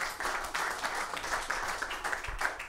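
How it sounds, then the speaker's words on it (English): An audience at a conference session claps for the APL CEO, a moderate, fairly distant round of applause with a soft rhythmic texture that continues steadily. "Round of applause for the APL CEO, Danny Townsend."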